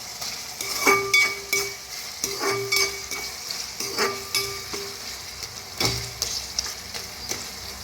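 Tomato pieces cooking in oil for a village-style goat blood curry, with a steady sizzle broken by repeated scrapes and clinks of a spoon stirring against the pan.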